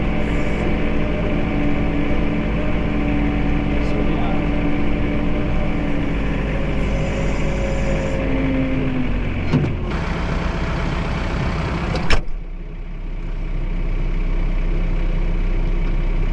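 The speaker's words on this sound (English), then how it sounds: "I'm just gonna drive the tractor in" A John Deere 4052R tractor engine idles with a steady low rumble up close, a short clunk, then the engine note drops and continues more quietly.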